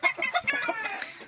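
Purebred chickens cluck close by in a short burst of several quick, nasal calls, loud and clear with no talking.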